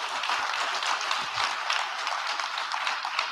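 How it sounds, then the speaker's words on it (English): A church congregation claps steadily together during a Good Friday Seven Last Words service, a dense, sustained wash of applause filling the room with no talking over it. "Okay, let's clap right there."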